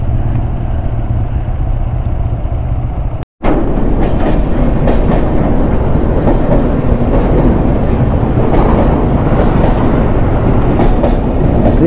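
A Delhi–Kamakhya train rumbles past on the railway beside a jammed highway, a loud, steady clattering roar that begins abruptly after a brief break, with wind buffeting the microphone throughout.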